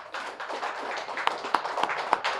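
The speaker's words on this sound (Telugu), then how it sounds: "గట్టిగా క్లాప్స్ చేసుకుందాం" An audience at an anniversary gathering of a pyramid meditation center claps, a soft, moderately distant patter of many hands with a few sharper claps standing out.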